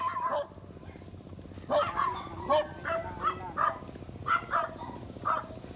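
Several dogs barking and yipping at a distance in a rural Philippine village, scattered short barks in an irregular series over a low background hum.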